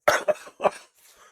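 A quick run of three close, dry coughs from a man with a summer cold, followed by a faint breathy trailing sound.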